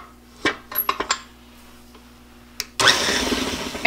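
Stand mixer with a paddle attachment mixing dough, a few clinks and knocks before the motor starts abruptly and runs loudly and steadily to the end.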